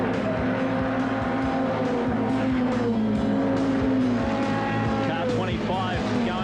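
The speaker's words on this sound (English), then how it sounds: "This is a great 6-car battle at the moment here at the Goodyear Thunderdome." A pack of six HQ Holden race cars battle at the Goodyear Thunderdome, engines roaring continuously and rising and falling as they jostle closely, with a race commentator talking over the din.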